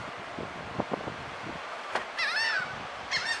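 Birds at a beach at feeding time give loud honking, goose-like calls in two bursts near the end, with soft rustling, wind and faint earlier knocks before them.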